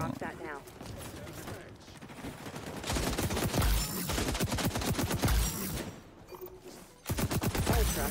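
Shotgun blasts and other weapon fire ring out in the Apex Legends battle royale game, with sharp repeated bursts, mechanical clatter and a dense fusillade in the second half, plus occasional brief speech.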